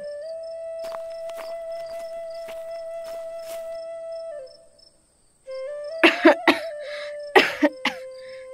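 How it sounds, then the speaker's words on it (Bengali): Several sharp coughs from an elderly father in a cartoon, in a close cluster, then a couple more a moment later, over a steady high-pitched background tone. "তোকে যে বলেছিলাম আমার খুব কাশি হচ্ছে"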